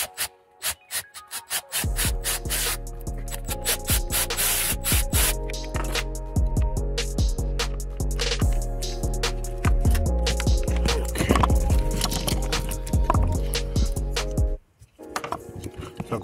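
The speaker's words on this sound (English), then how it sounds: "So now I'm going to take off these bolts." Bolts are removed from the water pump of a VW Audi EA888 Gen 3 TSI/TFSI engine, probably with a power tool, giving a loud, close, sustained buzzing motor whine with rattling metallic scrapes that stops abruptly near the end.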